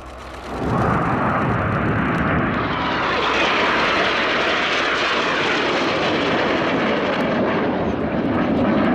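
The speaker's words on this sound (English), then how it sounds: "Here comes a lone jet." A lone Red Arrows jet passing at an air display, its loud roaring engine swelling in quickly after a quiet start and holding steady as it flies by, with no voices.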